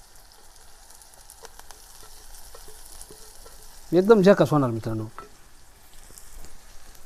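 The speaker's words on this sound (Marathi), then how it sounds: "आमच्या गावरान पद्धतीनं चुलीवर कढईमध्ये ही अंड्याची भुर्जी आज आपण बनवतोय" Egg bhurji sizzles steadily in a kadhai over a village wood-fired chulha, a soft continuous frying hiss with stirring, briefly interrupted by someone speaking.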